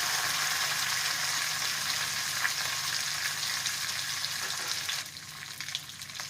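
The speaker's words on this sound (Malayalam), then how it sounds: "നമുക്ക് വേപ്പിലയും വറ്റൽമുളക് ആഡ് ചെയ്യാം." Curry leaves and dried red chillies sizzle loudly in hot oil with browning chana dal for a tomato chana dal chutney, a steady dense crackle that drops in intensity near the end.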